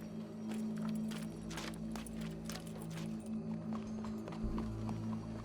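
Horse hooves clip-clop in Red Dead Redemption 2, a steady run of close hoofbeats over a constant low hum of game ambience and music.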